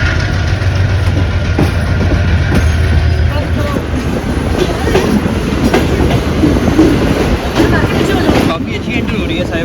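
Musa Pak Express pulling into Sahiwal railway station, a steady loud rumble of rolling wagons with faint rhythmic clatter throughout, under a busy station-like background.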